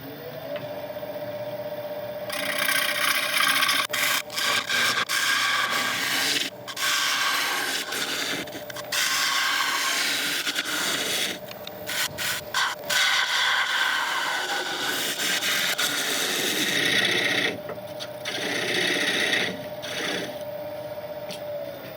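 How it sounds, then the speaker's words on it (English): A wooden bowl is hollowed on a lathe, with a continuous, loud scraping and rubbing as the cutting tool works the spinning wood, broken by short pauses and changes in pressure, and no talking. "so I'll quickly hollow this out, get it sanded and finished"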